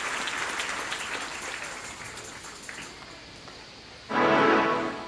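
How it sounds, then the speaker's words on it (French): A church congregation breaks into applause, a burst of clapping that rises suddenly and loudly near the end after a quieter, murmuring stretch. "Acclamez la parole de Dieu pendant Wachita"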